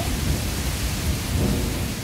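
Summer rain falls over a garden in India with thunder rumbling, a dense, loud, continuous downpour roar with deep low rolling underneath and no voices.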